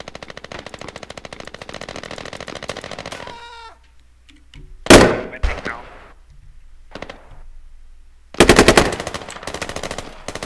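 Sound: gunfire in the Squad video game

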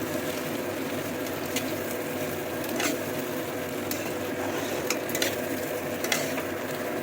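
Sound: vegetables frying in spices

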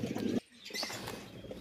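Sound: pigeons

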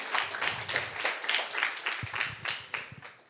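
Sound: audience applause

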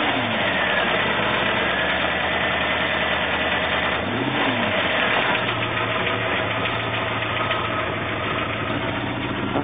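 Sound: 1977 Jaguar XJ12 engine starting and idling

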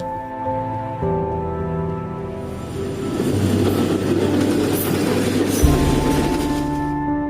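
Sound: train passing between Bangladesh and India border

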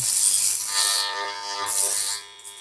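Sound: electric tool armature being tested on a diagnostic device

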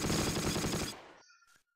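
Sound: machine gun fire in Close Combat video game

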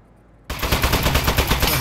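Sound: Aperture Science turret shooting in a video game

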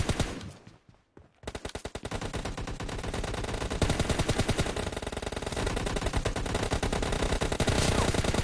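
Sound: gunfire in a mobile shooter video game TDM match

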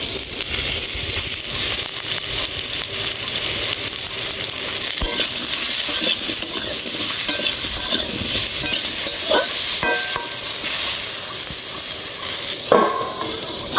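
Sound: potatoes frying in a pan

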